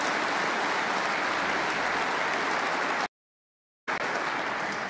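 A snooker crowd at a semi-final in Northern Ireland applauds a safety shot, with dense, steady clapping that briefly cuts out and then resumes.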